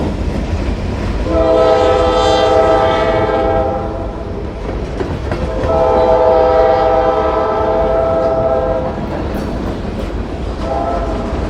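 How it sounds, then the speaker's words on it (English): Former CSX K5LA train horn on a Reading & Northern fast freight blowing for a crossing, two long loud chords and the start of a third over the heavy rumble of the passing train. "The unmistakable sound of former CSX K5LA sounds for the Broad Street crossing behind us."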